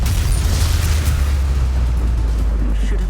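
A Bombarda blasting spell in Hogwarts Legacy erupts as a loud, close, sustained explosive boom with deep rumbling and debris-like noise throughout.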